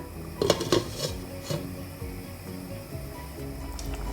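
A lid set on a pot of chicken liver curry with green chilli for covered cooking: a few metallic clanks early on, then a quieter simmering hiss.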